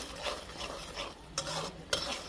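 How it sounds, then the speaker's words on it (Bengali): Small shrimp sauté with spices in a pan, a soft steady sizzle under two sharp scrape-taps of a utensil in quick succession, quiet and close. "চিংড়া মাছটা মশলা সাথে ভালোভাবে কষাই নিচ্ছে"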